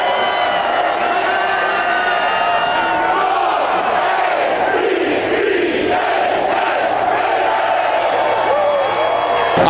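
A large stadium crowd at a Ravens vs Bengals NFL game roars and cheers in one sustained, loud swell, with whoops and scattered clapping blending into the dense noise.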